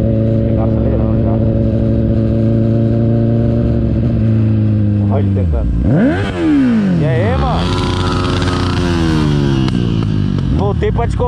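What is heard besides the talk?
Honda Hornet motorcycle engine revving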